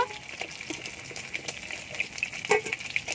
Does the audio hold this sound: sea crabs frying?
yes